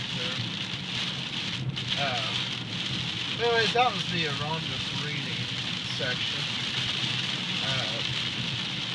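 Heavy rain drums steadily on a car during a nighttime drive with a Stalker DSR radar unit running, a dense continuous hiss throughout while someone talks over it.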